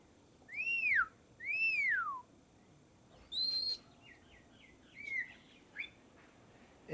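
Birds calling in an aviary: a few clear, rising-and-falling whistled calls, then higher chirps and a quick warbling series, bright and fairly close against a quiet outdoor background.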